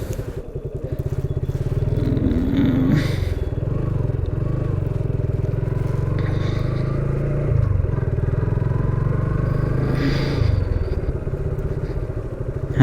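A Suzuki Gixxer carburetor motorcycle accelerates in third gear, its engine close and droning steadily for the whole stretch, with the pitch climbing slightly as the revs build.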